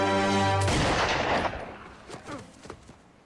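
A single loud gunshot from a TV drama breaks through a sustained tone, then decays into a rolling echo and scattered fainter sounds.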